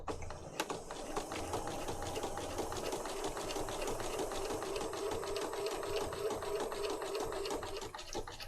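A sewing machine stitches through a file folder journal in a steady, fast mechanical whir with rapid regular clicks, close and continuous throughout with no talking.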